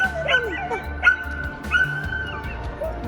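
A small circus-trained shelter dog whimpers and yips in short, high, whining bursts, close by and fairly loud, with a few brief voiced yelps mixed in.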